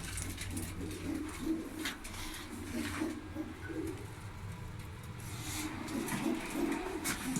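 Pigeons coo in repeated low, throaty bursts at a pigeon club loft in Ankara, several birds overlapping nearby, with faint background noise.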